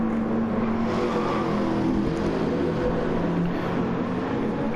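A 1971 DeTomaso Pantera's engine roars steadily under power on a racetrack, a dense, continuous close-up drone with no pauses and no talking.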